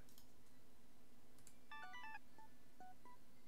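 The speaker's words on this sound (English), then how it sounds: "It sounds like there's a phone ringing in the game." A phone in the video game Return to Zork gives quiet electronic beeps, a quick cluster of tones followed by a few spaced single chirps, faint over a steady hum.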